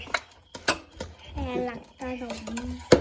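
Coriander powder stirred and fried in oil in a pan, heard as scraping spoon strokes and clinks against the metal, with a voice over part of it and a sharp knock at the end.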